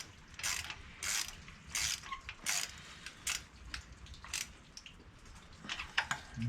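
A hand ratchet clicks in quick bursts while spark plugs are turned on a 2009 Pontiac Vibe, close and crisp, the runs of pawl clicks separated by short pauses.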